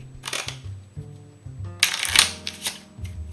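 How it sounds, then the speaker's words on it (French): Playing cards are shuffled by hand for a magic trick, giving several quick crisp riffles and rustling bursts close to the microphone, separated by brief pauses. "donc on mélange chacun notre partie du jeu"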